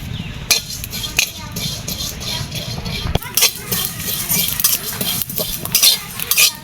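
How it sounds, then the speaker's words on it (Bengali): Cumin seeds frying and being stirred in a pan, with a utensil scraping and clinking against the cookware in irregular bursts over a steady low sizzle. "আমি জিরাটি ভেজে নেব"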